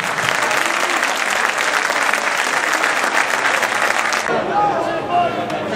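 A crowd at an Akragas versus Malta Under-21 football friendly applauds steadily in a dense, continuous wash of clapping over an open stadium ambience, then it thins abruptly near the end.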